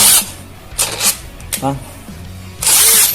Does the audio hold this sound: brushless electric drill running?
yes